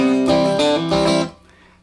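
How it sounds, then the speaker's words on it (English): Acoustic guitar strummed in a bluegrass country jig style, alternating bass note and down-up chord strum in a boom-chicka rhythm; a few close, bright strokes ringing out before fading quickly. "Now the next little detail is I'm doing a down-up strum on the chord."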